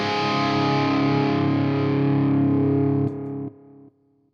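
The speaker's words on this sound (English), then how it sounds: "it muted it down, but it kept the little echo trails going" Electric guitar played through a signature amp with a delay in the effects loop, a sustained distorted chord ringing loud, then cut off in tight stops while quieter echo repeats keep trailing and fading out.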